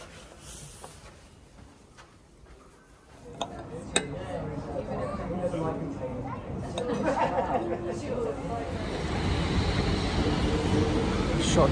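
Inside a moving train in Amsterdam, a low rumble builds with clicks and rattles while many passengers chatter nearby, growing louder over time.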